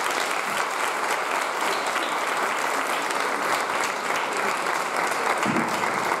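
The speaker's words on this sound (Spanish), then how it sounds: "Un aplauso para Araceo" An audience at an adult workshop event in Jaén applauds with sustained, dense clapping that stays loud and even for several seconds and has no talk over it.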